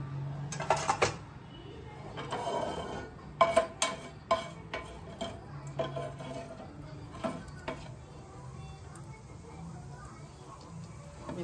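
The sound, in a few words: cumin and mustard seeds crackling in hot oil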